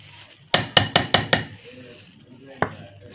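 Five quick scraping clinks in a row, like a spoon stirring a mixture with cornflour in a bowl, then a pause and one more clink.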